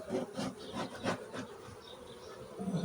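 Honey bees buzz steadily around an open hive in early spring, a close, continuous hum with soft rustling and brief louder swells, no voices.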